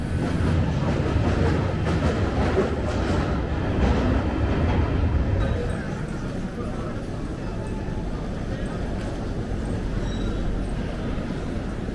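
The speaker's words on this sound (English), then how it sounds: "Just boarding my train at King's Cross now, and this should be my last train of the day" A train rumbles and rattles at King's Cross station, a steady loud close-up roar of wheels and carriage noise that runs throughout, with faint muffled voices.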